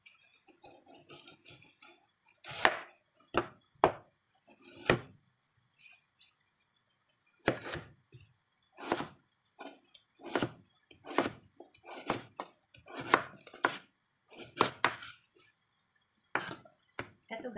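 Knife chopping food on a cutting board while preparing a Chinese-style soup, a series of sharp, separate thuds and clacks with irregular pauses between cuts, close and fairly loud, with no talking.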